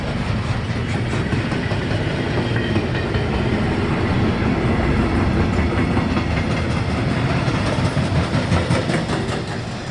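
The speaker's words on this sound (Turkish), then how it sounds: "Bakın bu da kargo taşıyan" A freight train of logistics cargo wagons passes near Allensbach on the way to Markelfingen on Lake Constance, Germany. It makes a loud, continuous rumble with rhythmic clickety-clack from the wheels on the rail joints, sustained close by for the whole span.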